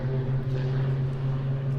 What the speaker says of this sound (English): At the same time, the Hawks of Romania taking off in stream